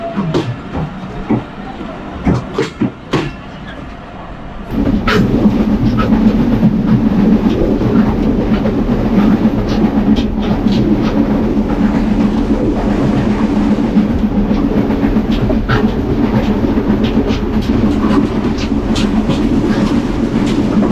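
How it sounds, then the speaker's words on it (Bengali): A local mail train on the Poradah, Rajbari and Goalanda route in Bangladesh roars past close by, its loud rumble and clickety-clack of wheels on rail joints kicking in suddenly after a few quieter seconds and holding steady. "এদিক দিয়ে কিন্তু একটা ট্রেন আসছে 6009-এর, সম্ভবত মেল ট্রেন, লোকাল ট্রেন যেগুলো।"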